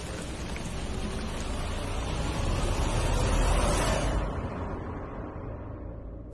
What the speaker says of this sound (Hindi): काश ये बारिश बंद हो जाए